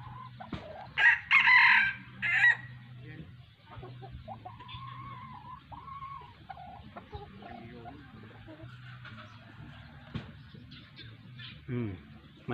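A junglefowl rooster crows loudly and close by in a few drawn-out calls near the start, followed by quieter clucking, while someone talks softly through most of the scene.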